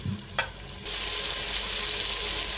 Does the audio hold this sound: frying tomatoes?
yes